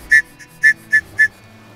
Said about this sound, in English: We've got a survival whistle.